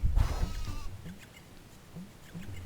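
Sheep bleating in the Nintendo DS video game Tak 3, a few short, faint game-animal calls after a brief burst of louder sound at the start, set against a quiet background.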